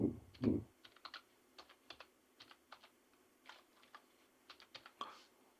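Quiet, close clicks of keys on a computer keyboard come in irregular short bursts and single taps, with a brief low murmur at the start and a quiet room behind.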